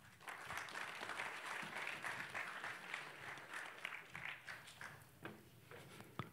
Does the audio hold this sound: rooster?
no